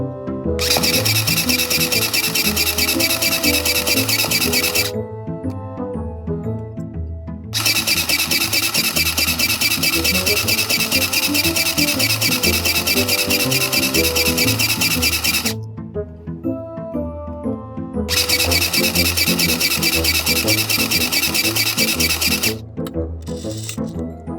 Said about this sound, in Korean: 먼저 원단 두 장을 겹치고 비귿자 모양으로 바느질 해줄게요.